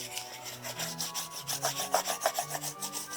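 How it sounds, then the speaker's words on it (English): A big wooden spoon rubbed back and forth over paper to burnish a linocut print, producing close, rhythmic scratchy rubbing strokes in quick succession. "Try something a little different with the burnishing too. I've seen a lot of videos where they use a big wooden spoon."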